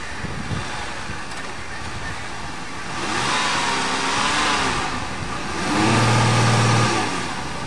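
A 2007 Ford Fusion's engine revs in surges while mudding on a farm, rising loudly around the middle and again near the end amid wind and spraying mud.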